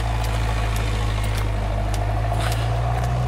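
A tractor engine runs close by on the Causeway Coast, a steady low rumble that holds without a break for the whole stretch, with no talking over it.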